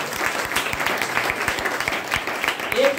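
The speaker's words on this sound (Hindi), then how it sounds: "सर के लिए तालियां हो रहा है।" An audience claps for a guest at a talk, dense and steady applause filling the room throughout.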